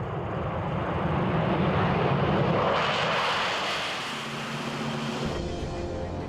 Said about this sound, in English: they had those afterburners going in there and that thing is straining against those cables